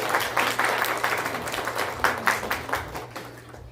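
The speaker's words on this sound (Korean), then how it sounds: "오래간만에 오시니까 박수 한번 치시죠." A church congregation claps together at a Sunday service, a dense patter of many hands with a few louder surges, fairly near and steady, fading slightly toward the end, with no talk over it.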